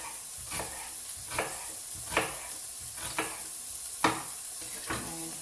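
Bacon and onion fry in a pan with a steady, close sizzle, while a utensil stirs and scrapes in regular strokes about once a second, without talk.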